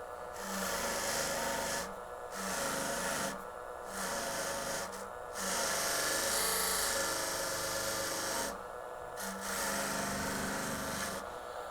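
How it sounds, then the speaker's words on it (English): Foredom micromotor brush-finishing a metal jewelry piece, a steady abrasive whir with a rasping texture that runs in several long passes broken by short pauses, fairly close and with no talk. "I'm going to just put a brush finish on half of this piece."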